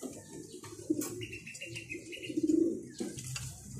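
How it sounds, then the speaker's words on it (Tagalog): Pigeons coo close by at a loft, several low throaty calls overlapping in soft rolling bursts, with faint rustling and a brief higher chirp in the background. "Ayan, mga ibon."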